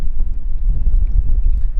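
Strong coastal wind at Hustadvika near the Atlantic Ocean Road in Norway buffets the microphone as a steady, heavy low roar with no voices.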